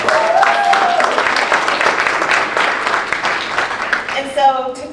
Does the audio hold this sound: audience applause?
yes